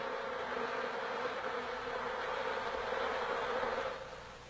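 Honeybees fan their wings inside a hive, producing a dense, steady buzzing hum from many insects that fades slightly near the end.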